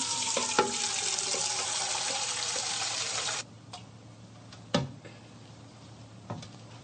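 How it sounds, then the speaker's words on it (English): Tap water pours steadily into a glass during a home science demonstration, a loud continuous rush that stops abruptly, followed by a few faint clinks and taps. "Fill it with water."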